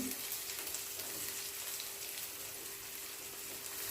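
Cabbage with ginger-garlic paste and turmeric being stirred and frying in a pan for a cabbage and potato curry, giving a steady, even sizzle that carries on throughout with no pause.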